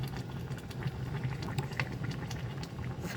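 Pork chop boiling in a pot with oyster sauce, a soft steady bubbling and gentle patter of simmering liquid, faint and continuous with no talking.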